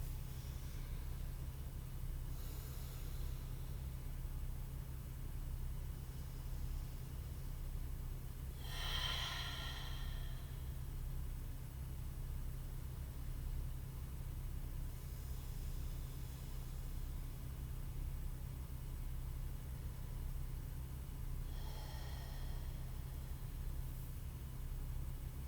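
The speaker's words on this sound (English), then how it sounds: "Let's take another 5 breaths or so." Slow, deep breaths during a yoga exercise, about three airy breath sounds spaced several seconds apart over a constant low rumble, faint and unaccompanied by talk.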